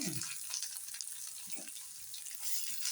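An egg frying in a pan with onions gives a steady, close hiss of sizzling oil with faint crackles that runs unbroken for a few seconds.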